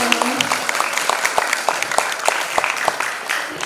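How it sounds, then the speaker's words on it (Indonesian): A crowd at a school student council candidate debate applauds the first candidate pair, with sharp, scattered claps spread over a few seconds at moderate volume and a brief voice near the start. "Tepuk tangan untuk pasangan calon pertama."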